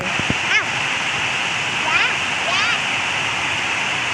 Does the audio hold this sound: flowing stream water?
yes